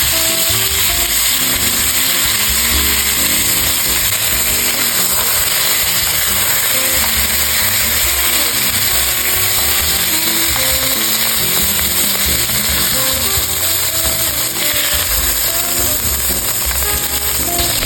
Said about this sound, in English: fry the rabbit pieces on both sides until golden